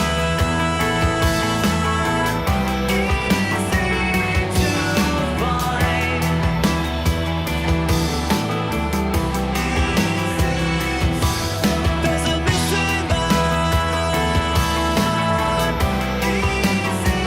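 A track plays loud and dense, a full band mix of driving drums, guitars and bass throughout with no talking over it.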